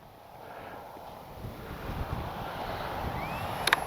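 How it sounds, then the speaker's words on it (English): Wind rumbles and gusts across the microphone at a model airplane flying field, rising slightly over time, with a faint whistling tone and a couple of sharp clicks near the end. "It is windy."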